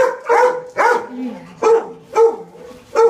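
A dog barks in a steady series of about six loud, close woofs, roughly one every half second, with brief gaps between them and no talking.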